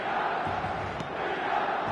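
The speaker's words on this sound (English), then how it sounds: "the crowd have tried to spark some excitement, but to no avail" Stadium crowd ambience from the eFootball 2026 football video game, a steady, loud wash of massed voices holding constant for two seconds with no standout cheer or talk.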